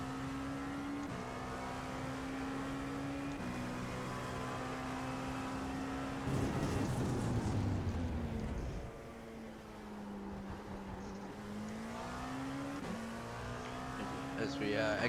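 An LMP2 prototype race car engine in a racing game at the Red Bull Ring, a steady droning whine that shifts pitch with gear changes and throttle, with a brief louder rush midway.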